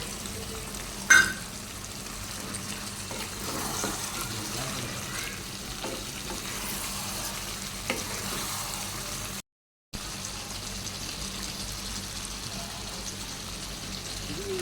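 Meat sizzles steadily in a pan with turmeric and chilli powder added, a continuous broadband frying hiss with a brief clatter near the start and a short silent gap partway through.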